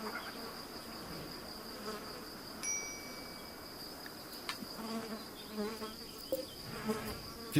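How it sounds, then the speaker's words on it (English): Flies buzzing around a rotting dead rat in the video game RimWorld, a steady insect drone over a continuous background hum with occasional soft dings and clicks, no talking. "If you're wondering what that buzzing sound is, it's the flies around this dead rat that's rotting out here."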